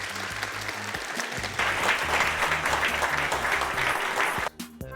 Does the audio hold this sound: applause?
yes